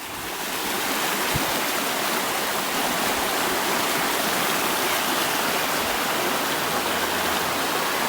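The Annick Water, a river in Stewarton, flows steadily as a continuous broadband rushing wash, like a stream over stones, with no voices and a faint low hum late on.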